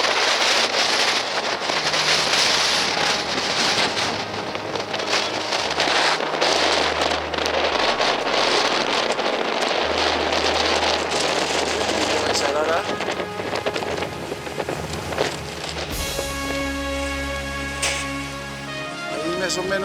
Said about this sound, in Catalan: Molt de vent, molt de fred.